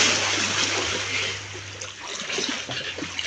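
Water splashes steadily as young Mahdi is taught to swim, a continuous broadband wash of churning water with a low hum underneath and irregular bursts of splatter.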